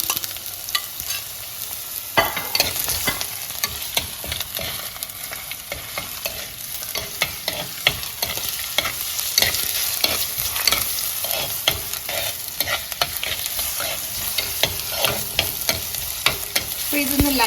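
Ginger and garlic fry in oil in a pan for a Kerala-style king fish curry, giving a continuous bright sizzle punctuated by frequent scraping stirs of a spoon, loud and close.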